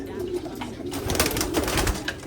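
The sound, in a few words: pigeons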